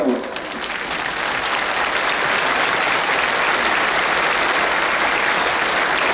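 A crowd at the 2015 religious procession of the Virgen de los Milagros breaks into sustained, loud applause that holds evenly from start to finish.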